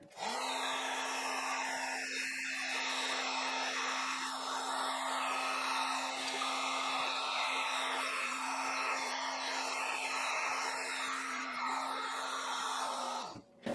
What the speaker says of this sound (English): And then I'll use my heat gun to shrink up the tubing.